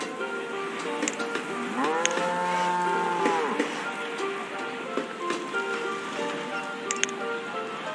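Cattle in the village-building game Banished low in a drawn-out moo lasting a couple of seconds, over a soft background of rain and game sounds.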